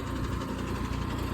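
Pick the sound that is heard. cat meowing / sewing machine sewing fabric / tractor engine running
tractor engine running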